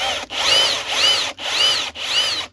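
An electric drill runs in four short bursts with brief pauses between, its high whine loud and close.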